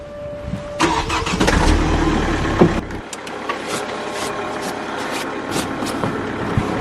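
A car engine cranks and catches, running loud for a couple of seconds before settling into a steadier idle heard from inside the vehicle, with small cabin knocks and movement sounds.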